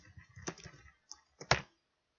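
Short bursts of quiet keystrokes on a computer keyboard while bullet points are typed, a few soft clicks close by with a brief pause between them.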